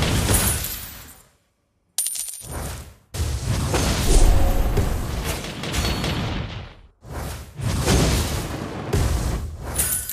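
Turret destruction in the Mobile Legends: Bang Bang mobile game comes through as dense booming game effects and whooshes, with brief cut-outs of silence between loud bursts of layered impacts.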